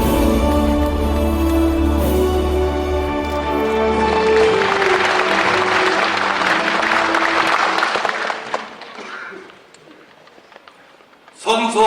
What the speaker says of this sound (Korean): 여러분 나오실 때 힘찬 박수로 환영해 주시기 바랍니다